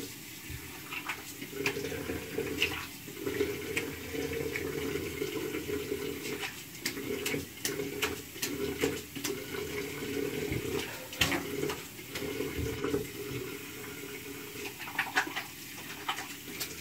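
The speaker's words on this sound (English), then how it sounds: "Now I'll just rinse my face and apply the" Tap water runs into a bathroom sink while someone rinses their face after a shave, a fairly quiet steady flow broken by repeated splashes and brief interruptions throughout.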